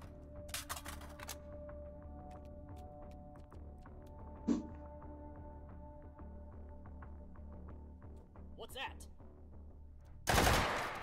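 Gunfire in the VR shooter H3VR, short bursts of sharp shots and scattered single cracks over a low hum, with a loud blast near the end.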